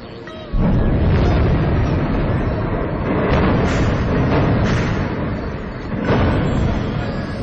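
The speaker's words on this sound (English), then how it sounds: "A NATO airstrike on a residential neighborhood in the Libyan city of Tripoli." A NATO airstrike hits a residential neighborhood in Tripoli, Libya: a sudden loud blast followed by a sustained rumbling roar with further surging booms, heard at a distance.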